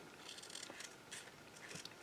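Scissors make soft, close snips through paper while a box ornament piece is cut out, a few quiet cuts in an uneven rhythm.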